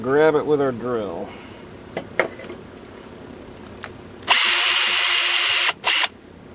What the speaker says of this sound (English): then we're going to grab it with our drill